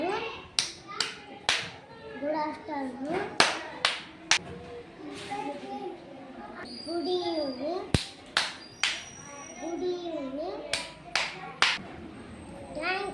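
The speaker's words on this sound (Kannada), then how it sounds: "ಯಾವ ಥರ ವಿವಿಧ ರೀತಿಯ ಚಪ್ಪಾಳೆಯನ್ನು ತಟ್ಟಿದ್ನಂತ" Schoolchildren clapping in different patterns during a classroom activity, sharp hand claps in uneven groups and rhythms, with children's voices and adult talk heard between and over the claps.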